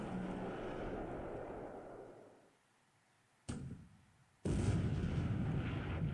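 Naval shell hits and explosions in the War in the Pacific strategy game: a sustained low rumbling blast that fades out, then a sharp impact and another booming explosion that rumbles on.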